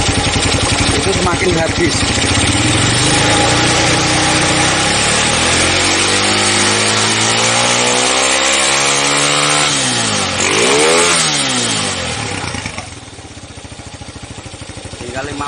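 A Honda Tiger motorcycle engine revs loudly from idle, pitch sweeping up and down in a rising and falling throttle blip, with someone speaking over the steady engine drone.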